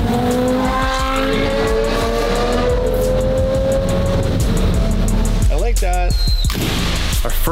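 A loud, raspy straight-piped Lamborghini exhaust roars and revs continuously nearby, pitch climbing and dropping, with voices faintly mixed in.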